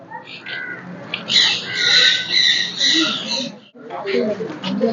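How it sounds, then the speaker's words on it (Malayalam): Parrots and peacocks at a zoo give loud, harsh squawks and screeches in bursts, with people talking alongside. "കുറച്ച് മയിലുണ്ട് തത്തയുണ്ട്"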